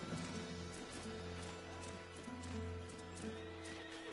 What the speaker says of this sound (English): I've never seen this horse either before.